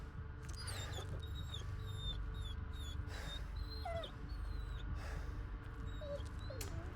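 A dog whimpers in the Blair Witch video game, thin high whines and yelps recurring over a constant dense ambient background, faint and alone without talk.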